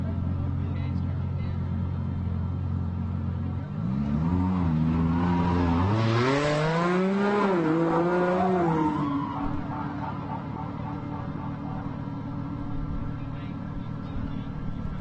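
A Monster Energy Can-Am off-road race car pulls away from the SCORE Baja 400 start line, its engine revving and rising in pitch through a loud run of acceleration before settling under a steady background hum.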